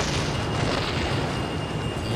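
A bomb blast in the space game Kerbal Space Program: a loud, sustained broadband rumble with deep low-end boom filling the whole moment, steady and without a sharp single onset.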